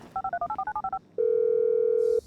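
In GTA 5 a phone dials with about ten quick, evenly spaced keypad tones, then a single steady ring tone sounds for roughly a second, clear and close with no talk over it.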